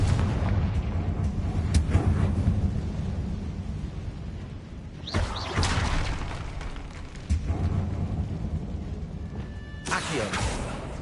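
Confringo spell blasts in the video game Hogwarts Legacy: a couple of sharp explosive bursts rising over a rumbling battle backdrop, with a shouted incantation among them.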